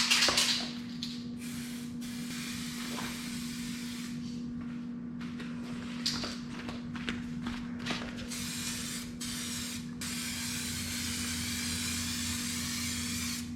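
Aerosol clear coat hisses onto the headlamp lens of a Honda Odyssey RB1 in repeated bursts, some short and some sustained, close and fairly quiet over a steady background hum.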